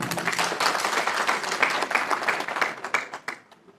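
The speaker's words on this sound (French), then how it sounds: "l'honorable professeur Hassan Ba, que je vous prie d'applaudir." Crowd applause with dense, continuous clapping from many hands, holding steady before thinning out and fading in the last moments.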